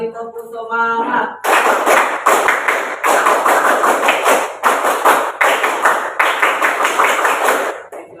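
A classroom of students claps in quick bursts of two, several repeated rounds of sharp, loud, close hand claps in a steady rhythm, after a brief voice at the start.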